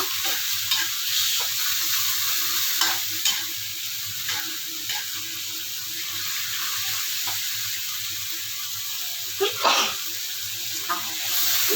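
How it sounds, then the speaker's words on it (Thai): Shrimp stir-fried in a hot pan with shrimp paste, a steady close sizzle broken by periodic spatula scrapes and clacks, with a faint voice now and then in the background. "แล้วก็ใส่กุ้งลงไปนะคะ ผัดให้กุ้งสุกนะคะ"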